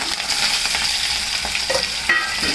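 Hot oil in a kadai wok sputters and crackles loudly while food is stirred through it, a close, busy sizzle broken by a few short scraping and clinking stirs.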